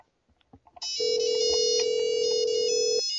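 A telephone rings with a single sustained electronic tone lasting about two seconds before cutting off as the call is picked up, preceded by faint clicks and handling noise.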